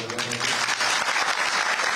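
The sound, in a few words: audience applause at farmers' rally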